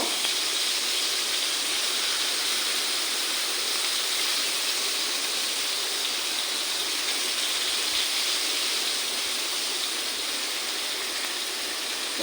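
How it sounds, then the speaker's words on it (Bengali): Green chillies and garlic sizzling in hot oil in a pan for a tomato bharta, a loud, steady hiss that holds evenly with no voices. "কাঁচা লঙ্কা আর রসুন আমার ওটা গরম হয়ে গেছে আমি এখন ওটা দিয়ে দেবো"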